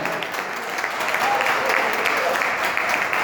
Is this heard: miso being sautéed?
no